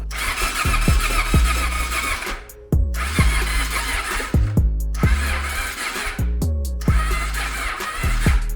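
1988 Honda Shadow motorcycle being cranked with the choke on and starting fluid ready, four loud cycles of the starter whirring and the engine coughing, each cut off with a brief pause between attempts.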